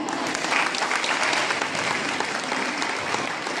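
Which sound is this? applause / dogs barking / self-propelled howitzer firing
applause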